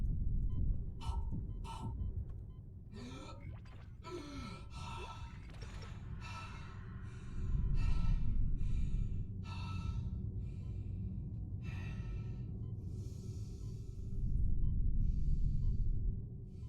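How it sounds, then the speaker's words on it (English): A character in the Dead Space Remake video game breathes heavily, with a series of labored, rasping inhales and exhales repeating in an uneven rhythm over a low, droning rumble, close and prominent. "I love the breathing effect in this game"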